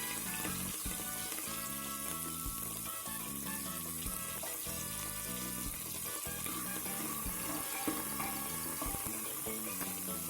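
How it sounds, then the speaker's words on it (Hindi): Onions and green chilies frying in hot oil with mustard seeds, cloves and black pepper, a steady close sizzle and crackle that runs without pause and without talk. "और इनको अच्छे से फ्राई करेंगे।"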